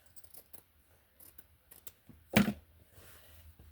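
Scissors snip through hair bow fabric to trim off an edge: faint small clicks, then one sharp, close cut that stands out clearly in a quiet room.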